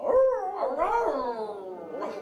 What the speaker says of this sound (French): ce pauvre chien hurle dans le puits